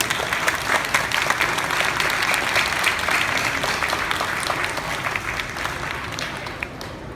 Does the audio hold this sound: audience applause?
yes